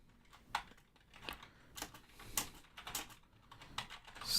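Quiet, uneven bursts of clicking keys on a computer keyboard while someone types text into a webpage's body, short clusters of strokes separated by brief pauses, with no talking.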